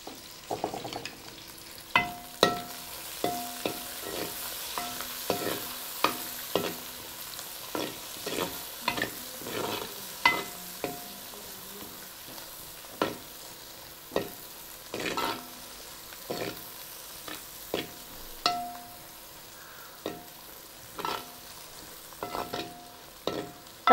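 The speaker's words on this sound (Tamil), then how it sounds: "இந்த மீன் குழம்புக்கெல்லாம் நல்லெண்ணெய் ஊற்றி தாளிக்கணும்" Spices tempering in hot sesame oil for a village-style stingray fish curry, a low sizzle broken by repeated sharp scrapes and clinks of a ladle stirring in the pan, irregular and close, with no talking.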